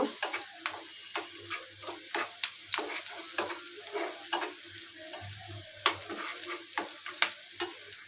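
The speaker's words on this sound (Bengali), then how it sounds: "পেঁয়াজ আর কাঁচামরিচ আমি হালকা একটু ভেজে নেব" Onion and green chili frying lightly in a pan, a steady close sizzle broken by frequent sharp scraping strokes of a spatula in an irregular rhythm, no voices.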